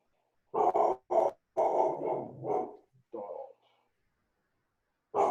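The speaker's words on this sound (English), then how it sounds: "Who's barking? Dog." A dog barks in several short, sharp bursts near the microphone of a participant on a Zoom council meeting call, with brief gaps and a final bark after a pause.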